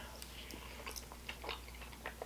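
Someone eats strawberry ice cream with little crunchy pieces, producing faint, close crunching and chewing sounds in short irregular bursts over a low steady hum.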